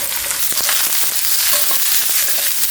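Steady sizzling and crackling of eggplant stir-frying in olive oil in a hot pan, continuous and close, with occasional pops and scraping.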